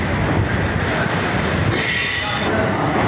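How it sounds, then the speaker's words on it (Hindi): The Varanasi-Bahraich Intercity Express pulls into Gonda Junction, its carriages rumbling loudly and continuously nearby with wheels clattering and a high metallic squeal rising near the end. "गोंडा जंक्शन पर अपनी ट्रेन अराइव लेते हुए"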